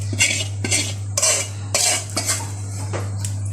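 Dried chilies being stirred and roasted in a pan, with a utensil scraping and clinking against the metal in repeated strokes over a steady low hum, close and fairly loud with no talk.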